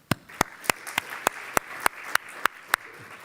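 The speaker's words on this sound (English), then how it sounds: "please join me in giving a round of applause" A single person claps in a slow, even rhythm of about ten sharp, well-spaced claps, close and fairly quiet, with no crowd joining in. The call is for a conference audience to applaud the team that hosted the event.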